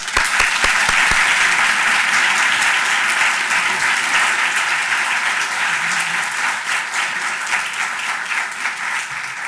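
Sustained, loud applause from a lecture audience welcoming a law professor, dense steady clapping lasting several seconds with a few sharp claps at the start.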